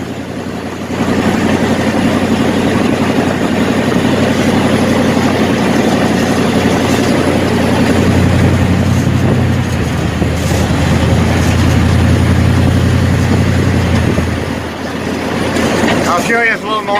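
A wrecked 1967 Chevelle idles and runs with its throttle worked by a piece of wire from the floor, a loud, steady low engine rumble sustained for most of the stretch, then tapering off toward the end.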